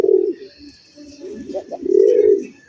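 Fancy pigeons at a winter pigeon sale give close, soft throaty coos in a few rolling phrases, the last one swelling louder before fading.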